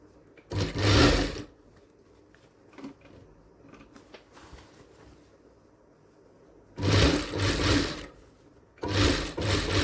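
Sewing machine stitching a half-inch seam on a blouse sleeve, running in three separate bursts of rapid whirring, close and loud, with quiet handling pauses between them.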